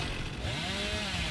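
Hillbilly's chainsaw from the game Dead by Daylight revs loudly and continuously, a close, steady engine snarl whose pitch bends upward and then levels off, with no talking.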